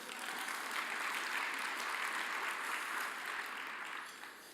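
Sustained applause from a large audience at an address by a governor, a steady, even wash of many hands clapping at a distance that holds for about four seconds and then begins to fade.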